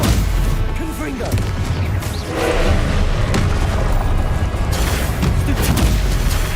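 Confringo fire spell blasting in Hogwarts Legacy, a loud booming explosion that swells amid continuous dense battle noise and other spell impacts.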